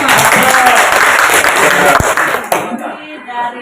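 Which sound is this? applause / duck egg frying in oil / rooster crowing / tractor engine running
applause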